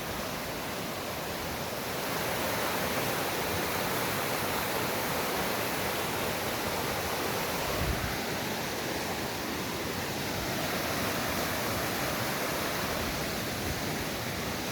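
River water rushing steadily past a small island along the Kaslo River Trail, a dense, even roar of flowing current heard close and alone, with a brief low thump near the middle.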